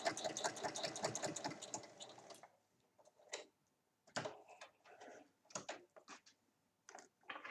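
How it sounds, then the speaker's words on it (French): A sewing machine topstitching a cheque book holder with a closure tab runs in a fast, steady whirring stitch for about two seconds, then stops and gives a few short bursts and clicks between pauses. "Donc je fais juste une surpiqûre"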